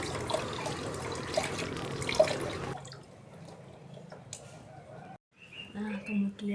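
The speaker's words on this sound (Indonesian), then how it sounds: "ini aku cuci hingga bersih" Tap water runs steadily while peeled cassava is washed in a kitchen sink, a close, continuous splashing that stops, followed by brief handling noises.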